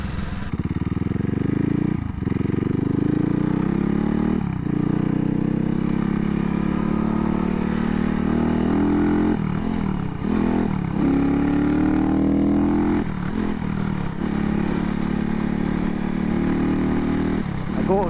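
A CCM Spitfire MK1 motorcycle engine runs loud and steady at close range for the whole stretch, its low rumble rising and falling a little with a few brief throttle changes.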